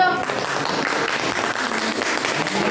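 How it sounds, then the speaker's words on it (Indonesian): A classroom of students claps for a group's history presentation, a brief, fairly loud burst of steady applause that carries on to the end. "kasih tepuk tangan dong"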